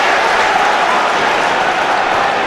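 A football stadium crowd at an Everton versus Newcastle United match in 2007/08 roars in a loud, continuous wash of noise that stays steady throughout.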